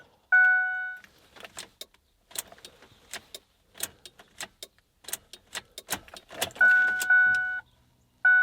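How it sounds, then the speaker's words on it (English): A 2005 Ford F-150's warning chimes sound at start and end, with a run of sharp ticks and clicks from the fuel pump priming between them, close and quiet; the truck fails to crank, no engine catching. "I hear the fuel pump"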